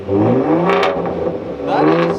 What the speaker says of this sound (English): Will you give us some revs? Want to hear revs in this?